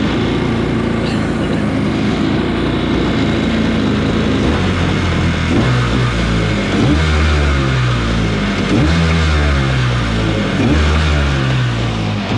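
A jetboat's single-carburetor 750 engine revs loudly and steadily, its deep drone rising and falling in repeated throttle pulls with no voices.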